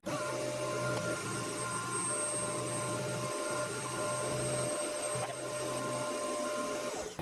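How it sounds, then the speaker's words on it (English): A lathe turns a gear blank for a 90-degree gearbox while an aluminium-tipped cutting tool machines it, producing a continuous loud whirring drone with steady motor whine and faint cutting noise throughout. "the aluminium tip is definitely doing a much better job of machining that"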